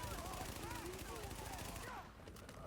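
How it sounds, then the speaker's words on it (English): Rapid gunfire bursts from a weapon in The Division beta, a dense stream of shots that stops abruptly near the end, leaving quieter game ambience. "I fire off random shots for no reason"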